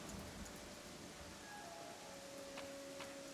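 Steady rain in the Pathfinder: Kingmaker video game, a continuous soft hiss of falling drops at low level, with faint tonal game sounds drifting through and no talk over it.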